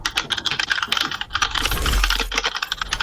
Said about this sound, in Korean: 아따 그 키보드 부시겠네요